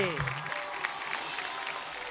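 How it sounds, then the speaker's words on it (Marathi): An audience in a Marathi television show studio claps steadily and densely at moderate volume, following a brief voice at the very start. "एकदा जोरदार टाळ्या झाल्या पाहिजे"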